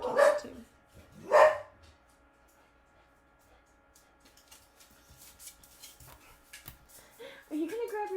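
Two pet dogs at home let out loud, sharp barks close by, then fall quiet while softer household noises and a voice continue in the background.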